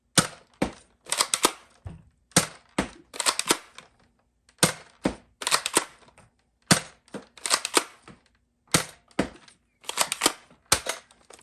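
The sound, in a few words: spring-powered Nerf-style blasters firing shots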